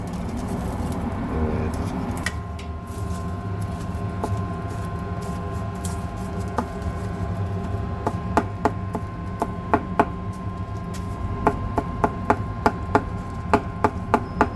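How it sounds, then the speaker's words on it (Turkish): Grilled kokoreç, lamb intestines, chopped on a board at a London kokoreç and köfte grill shop, with sharp, rapid knife knocks that grow denser toward the end over a steady hum of restaurant noise. "Evet, şu anda kesiliyor kokoreçimiz."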